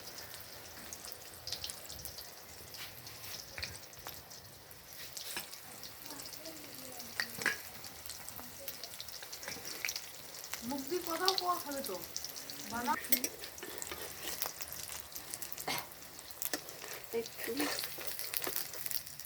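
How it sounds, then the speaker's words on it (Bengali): Coriander leaf fritters frying a few at a time in a small wok, a soft steady sizzle with occasional stirring clinks and spatter, fairly quiet, with a brief word spoken over it. "তো আমার কড়াইটা ছোট, এই জন্য আমি অল্প অল্প করে ভেজে নেব।"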